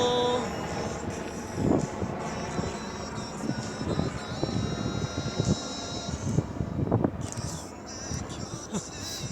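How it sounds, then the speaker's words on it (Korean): Helicopter passing overhead outdoors, a continuous rumbling rotor drone that swells and fades, with people talking intermittently beneath it. "헬기 소리 때문에 좀 약간 시끄러우시죠?"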